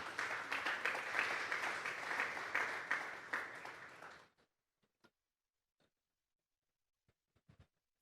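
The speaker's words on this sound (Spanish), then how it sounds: "Vamos a darle un fuerte aplauso al Espíritu Santo esta tarde." Audience applause fills the first four seconds, dense and steady, then cuts off abruptly, leaving near silence with a few faint scattered claps and clicks.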